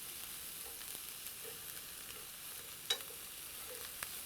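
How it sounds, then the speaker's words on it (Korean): Onions stir-fry in a pan with very little oil, giving a faint, steady sizzle with occasional soft clicks from stirring and one sharper tap near the middle. "이렇게 익어가는 소리가 나면 이렇게 한 번씩 저어주세요"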